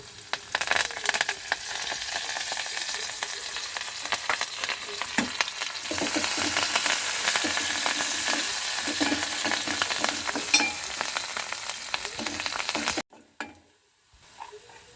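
Dried red chilies, onion and curry leaves sizzle and crackle loudly in hot oil as tempering for gongura dal, a continuous frying hiss that cuts off abruptly near the end.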